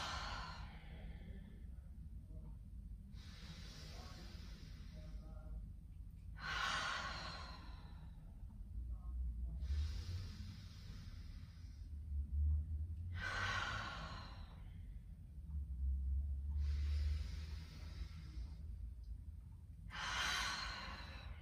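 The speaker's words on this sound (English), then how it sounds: "breathing in through the nose, sending it to the mouth, and then halfway closing the mouth, sending it through the nose again, almost making a hum sound." Slow yoga breathing during a vinyasa flow session: repeated long nasal inhales and exhales, with a low, near-hum resonance on some breaths. The cycles are evenly spaced, close and soft, with no talking.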